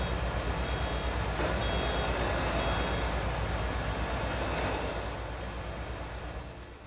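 A combine harvester in Farming Simulator 19 gives a steady, loud engine drone with faint repeated reversing beeps, the rumble easing off toward the end.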